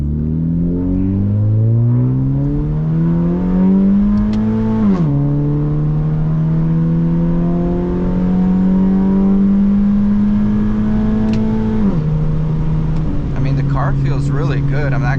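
A turbocharged Honda Civic running E85 revs hard through its exhaust, pitch climbing smoothly through two gear changes, loud and close throughout.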